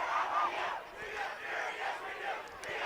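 Juniors and seniors at a high school football game, Hudson Raiders against Rice Lake, trade a spirit cheer in the stands, rising and falling waves of massed chanting voices that swell in turn, heard from a distance across the field.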